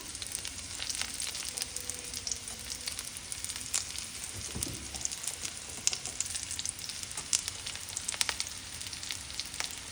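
Vegetarian carbonara ingredients frying in a pan on the second fry, a steady crackling sizzle throughout with scattered pops and a brief stir partway through, moderately quiet and close.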